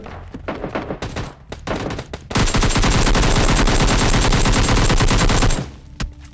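Scattered gunshots in the video game PUBG Lite give way to a long, loud burst of rapid automatic fire lasting several seconds, then a final lone shot.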